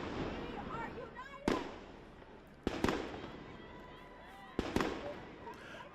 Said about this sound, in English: police set off flashbangs. That's an explosive device designed to disorient people around the camp.